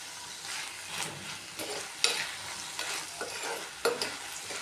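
Okra sautéed in coconut oil in a pan, stirred briskly: continuous close sizzling with repeated scraping strokes and a couple of sharp clacks of the spoon against the pan, no voices.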